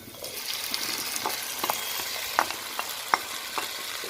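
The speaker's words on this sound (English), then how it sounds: "I will add the tomatoes in the onion" Tomatoes added to frying onions in a pan and stirred, with a soft steady sizzle under repeated scraping strokes of a spoon against the pan, close and moderately loud.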